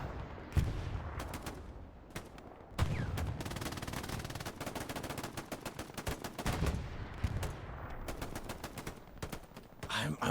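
Machine gun fire rattles in rapid, dense bursts during a Hell Let Loose match, loud and continuous over scattered gunshots and distant battlefield noise, with faint voices underneath.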